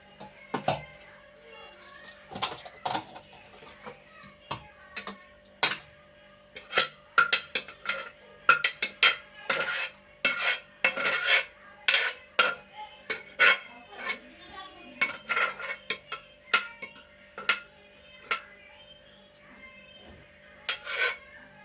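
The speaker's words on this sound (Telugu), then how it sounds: "గొండి కూర గిన్నె తీసేస్తున్నాను." Curry pot and utensils handled in a home kitchen, with a long run of close metallic clinks, scrapes and rasping knocks in irregular bursts, some sharp and loud, others soft.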